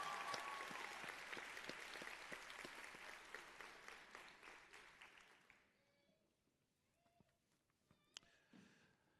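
A convocation audience applauds a newly hooded PhD nursing graduate, steady crowd clapping for roughly five seconds that then drops away into a quiet hall with scattered faint sounds.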